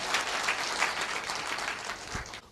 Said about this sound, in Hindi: एक जोरदार ताली पहले सबसे पहले आप सभी के लिए